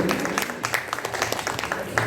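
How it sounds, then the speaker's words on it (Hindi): Audience applause at a residents' association Ganeshotsav talk show, a steady wash of many hands clapping at moderate level for about two seconds. "आपके लिए जोरदार तालियां"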